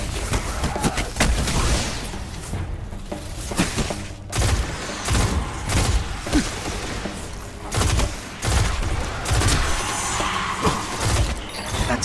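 The Hawksaw, a legendary pulse rifle in Destiny, fires repeated loud bursts amid a dense, continuous barrage of gunfire and impacts across the whole stretch.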